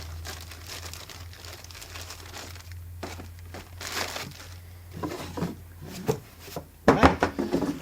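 Crinkling and rustling of a plastic bag holding accessories for a MOON Neo MiND 2 network streamer as it is handled and unpacked, soft at first, then louder crackles and bumps near the end, with a low steady hum underneath.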